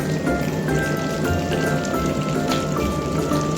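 Marinated chicken pieces frying in hot oil, a steady dense sizzle and crackle throughout, close and loud with no talking.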